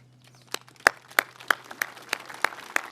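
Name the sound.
audience applause at memorial ceremony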